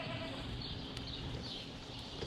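Boer goats in a farm pen call out with a few bleats over a dense, steady wash of barnyard noise, the animals sounding moderately close.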